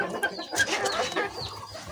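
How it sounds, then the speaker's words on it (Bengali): A golden Sebright hen, an ornamental bantam breed kept indoors in a room, gives a few soft, scattered clucks and calls over low background rustle, close by, with no talking. "এটা হচ্ছে গোল্ডেন কালার সেব্রাইট প্রজাতির মুরগি।"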